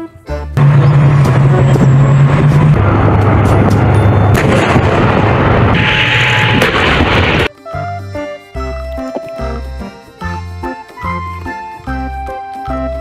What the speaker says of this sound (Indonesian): Mobil tank baja.